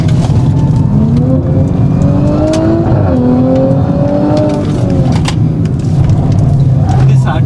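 An Audi S5 accelerates hard on a race track, its engine note climbing in pitch through the gears in a loud, close, unbroken roar.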